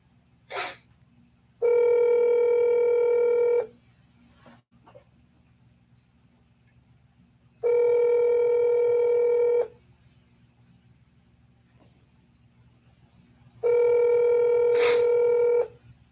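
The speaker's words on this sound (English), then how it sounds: "I'm going to be calling Butts County here." A telephone call to a county board of commissioners office rings out with three evenly spaced, two-second electronic ringing tones separated by long pauses, clear and alone over a faint low hum.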